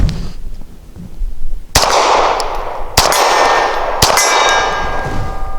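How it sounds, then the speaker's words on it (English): A 9mm pistol fires 100 grain frangible American Classic XB rounds outdoors: three sharp, loud reports about a second apart, each with a ringing metallic tail, with no talk. "My first time shooting it, running it through this gun."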